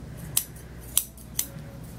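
Three crisp scissor snips cutting a Maltese dog's hair, spaced about half a second apart, close up against a quiet room.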